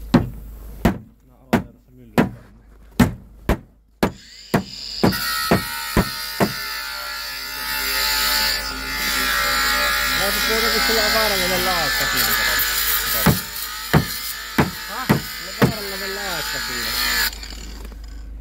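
An angle grinder cuts into a car's rear hatch lock, a loud continuous whine with shifting pitch after a run of sharp metallic knocks, which resume at the end; people talk over it.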